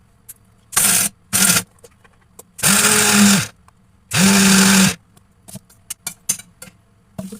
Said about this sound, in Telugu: ఇప్పుడు పల్లీలు మిక్సీ జార్లో వేసుకొని మిక్సీ వేసుకోవాలండి.